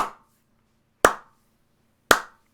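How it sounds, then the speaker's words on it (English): Three sharp, isolated claps spaced about a second apart, each crisp and close with a quick decay into silence. "And it's just this clapping."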